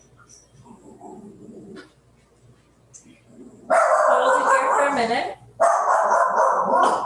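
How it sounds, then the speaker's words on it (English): Dogs bark loudly in two sharp bursts after a quiet stretch where a person speaks softly. "Excuse my dogs,"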